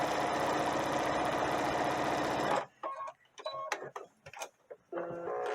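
A sewing machine stitches across the bottom of a doll clothes piece, running loud and steady for a couple of seconds before stopping, followed by quieter clicks and handling sounds.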